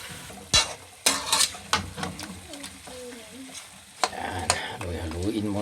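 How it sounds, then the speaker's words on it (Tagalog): Chicken pastil being stirred as it fries in a pan, with scraping strokes and sharp clinks over a steady sizzle, close and fairly loud; a few brief spoken sounds mix in. "haluin muna natin."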